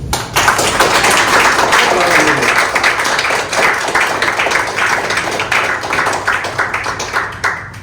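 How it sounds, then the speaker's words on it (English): An audience at a poetry book launch breaks into sustained applause for the poet, dense clapping that fills the room and slowly thins toward the end. "join with me in applauding the poet and declaring Adagio Days officially launched"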